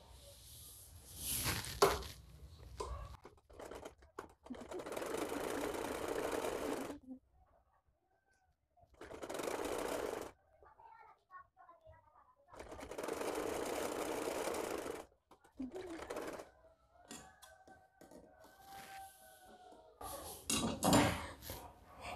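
A sewing machine stitches the seam of a small baby ear cap in several separate runs of steady mechanical whirring, each a few seconds long, with quiet handling pauses and light clatter between them.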